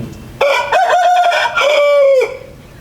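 A desi (native) rooster on a farm of about 500 country chickens crows once, loud and close, a long ringing call that rises and then trails off.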